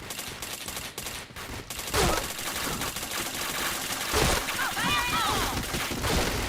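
A flashbang grenade going off in a shooter video game, amid a dense, loud burst of rapid gunfire and crashing blasts that runs almost continuously, with a voice talking over parts of it.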